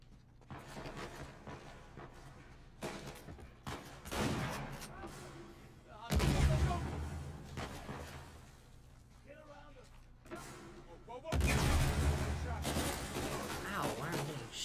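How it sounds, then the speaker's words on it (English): Gunfire in Uncharted 4 arrives as bursts of sharp shots, with two loud, heavy volleys standing out among quieter scattered shots and game noise, while a voice speaks at times between them. "why am I getting shot at?"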